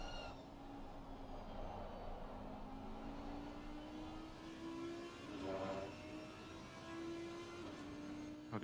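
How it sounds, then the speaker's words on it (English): Engine drone with rising and falling revs from two Audi race cars in Assetto Corsa Competizione, steady and fairly loud throughout, with a brief swell near the middle. "Both Audis in harmony and with the revs sounds so good."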